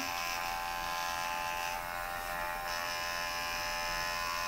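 A steady high-pitched electric whirring buzz from a small spinning beauty device head, continuous and close, with no talking.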